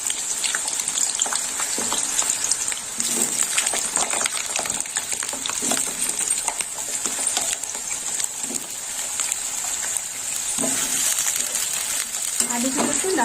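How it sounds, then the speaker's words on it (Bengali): Halved potatoes fry in hot oil in a kadai, giving a steady, close crackling sizzle with soft stirring scrapes that continue for the whole stretch. "তেল গরম হয়ে গেছে এবার আমি আলুগুলো ভেজে নেবো"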